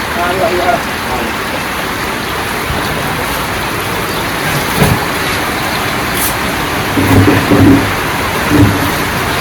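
Steady rain falls in a dense, even hiss throughout, with a few louder bursts and people's voices talking over it.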